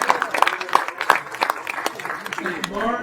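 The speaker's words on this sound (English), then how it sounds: "Give them a big round of applause." Applause from guests at a birthday celebration with donations being announced, scattered claps and crowd noise mixed with talking and a few loud whoops.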